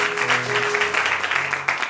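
A church congregation applauds during a sermon, a dense, steady wash of clapping filling the whole stretch, with a sustained voice or tone running underneath.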